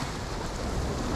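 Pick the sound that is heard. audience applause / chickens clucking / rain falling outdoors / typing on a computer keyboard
rain falling outdoors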